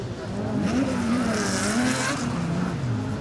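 A classic rally car with a rear-mounted flat-six boxer engine roars at full throttle during a night rally stage in forest, its pitch rising and falling through the gears, loud and close throughout.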